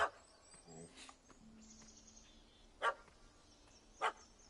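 In The Witcher 3, a dog barks at a cat stuck up a tree: three short, separate barks at a moderate distance over quiet outdoor ambience.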